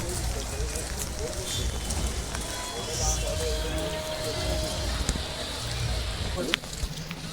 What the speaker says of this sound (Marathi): पाऊस कंटिन्यू पडतो